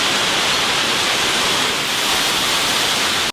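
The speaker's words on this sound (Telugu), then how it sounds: "ఇక తక్సంగ్ చేరుకుంటాము అన్న దశలో ఈ 60 మీటర్ల ఎత్తు అంటే దాదాపు 200 అడుగుల ఎత్తున్న వాటర్ ఫాల్స్ కనిపిస్తుంది" A waterfall about 60 metres high beside the trek to Taktsang near Paro, Bhutan, roars as a loud, dense, steady wash of falling water with no voices.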